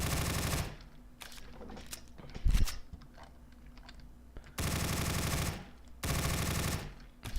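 Automatic gunfire in the video game Dread: rapid, sustained bursts of full-auto fire, loud and close, with three long strings of shots separated by quieter gaps holding a sharp single bang and scattered clicks.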